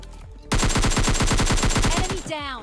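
A burst of automatic gunfire in a battle royale video game, a rapid run of loud, close shots for about two seconds, then a short trailing sound effect.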